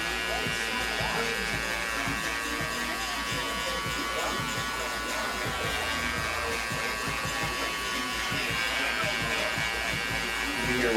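Hair clippers with a 1 guard and the lever all the way open buzz steadily during a fade haircut, a close, even electric hum running the whole time with faint talk underneath.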